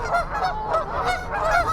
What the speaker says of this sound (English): I'm surrounded by geese.